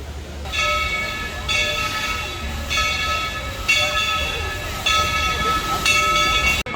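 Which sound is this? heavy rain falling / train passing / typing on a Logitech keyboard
train passing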